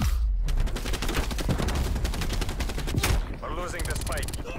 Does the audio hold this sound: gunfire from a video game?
yes